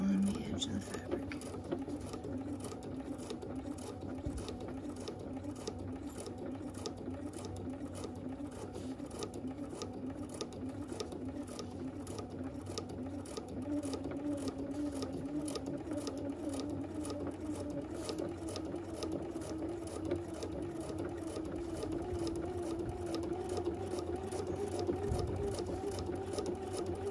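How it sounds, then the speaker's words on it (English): A sewing machine runs steadily near the fabric edge, its rapid rhythmic needle clatter continuous for almost half a minute, with brief backstitching and a faint voice talking underneath. "I am going to backstitch a couple stitches here. Just keep my presser foot right on the edge of the fabric."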